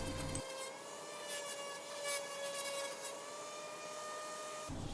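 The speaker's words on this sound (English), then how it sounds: "now it's time for one final quick round of sanding" Steady, continuous rubbing of 220 grit sandpaper across a wooden foot rest, a close, even scratching that holds for several seconds with no talking.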